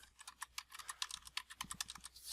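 Quick run of keyboard key clicks as someone types an IP address on a computer, a steady patter of light taps with a few heavier strokes, close up and without voices.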